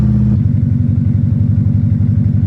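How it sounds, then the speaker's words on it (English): A cheap rally car's cold engine idles high and loud, a dense throbbing pulse that steps down slightly early on before holding a smooth, even rhythm, close up and alone. "Maybe the idle's a little bit more smooth, but it's still cold, so it's idling high"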